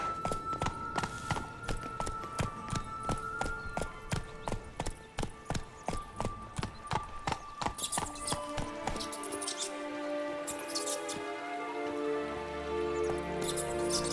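Roach, the horse in The Witcher 3, gallops at a fast, steady rhythm of close hoofbeats for several seconds, then the hooves fade under swelling game music and ambient sound.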